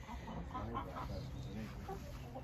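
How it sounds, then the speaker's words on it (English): Several ex-battery hens in a backyard coop cluck and murmur steadily at close range, a busy overlapping chorus of short clucks throughout. "these are all ex-battery hen chooks"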